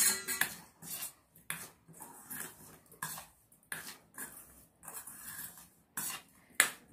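A spoon mixes instant mango pickle with achar masala in a bowl, giving close, irregular clinks and scrapes in short bursts with quiet gaps between them.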